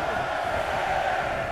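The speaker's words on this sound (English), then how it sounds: "Listen to this crowd, count the next one in." Arena crowd in WWE 2K23 during a Royal Rumble match roars in a loud, steady wash of cheering that fills the whole moment.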